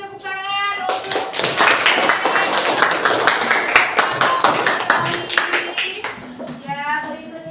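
Classroom applause from a group of children clapping together, a dense burst of claps lasting several seconds, with children's voices heard around it.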